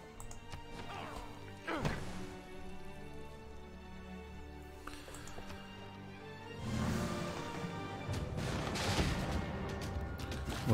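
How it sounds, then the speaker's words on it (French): Heavy booming cannon blasts go off a few times with crashing impacts, fairly faint, amid continuous background sound and music in the video game Civilization 6. "le vampire, il va nous aider à nous défendre contre les canons qui arrivent là"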